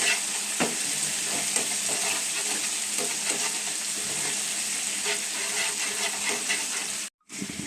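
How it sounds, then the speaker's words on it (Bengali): Ginger and green chili spice paste sizzles steadily in a pan while a spoon stirs and scrapes through it, loud and close throughout, with a brief cut near the end. "2-3 মিনিট কষিয়ে নেব এটা"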